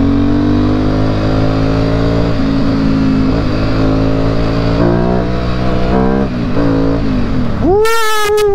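A modified Yamaha Byson motorcycle engine runs loud and close, its pitch climbing and falling through several revs before a sharp rev to a high whine near the end.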